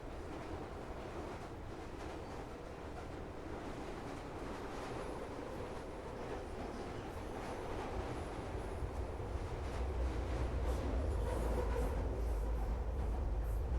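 A train rolls along steadily with a low rumbling drone and faint rhythmic clatter, growing slightly louder and heavier toward the end.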